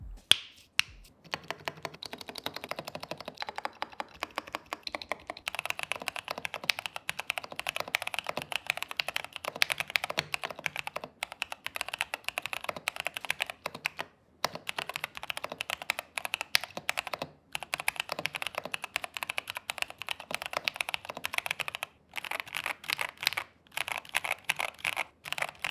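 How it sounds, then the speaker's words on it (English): Steady typing on a GK87 mechanical keyboard, a dense run of crisp key clacks with occasional brief pauses, close up and with no voices. "let's do a quick sound test of the GK87"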